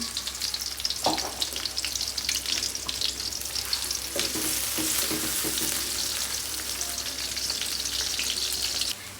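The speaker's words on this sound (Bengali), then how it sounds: "তেল দেওয়ার পর আমি এখন পেঁয়াজ দিলাম, কাঁচামরিচ দিয়ে দিচ্ছি।" Chopped onions and green chilies frying in hot oil, a loud continuous sizzling hiss with occasional stirring scrapes, close and steady throughout, no voices.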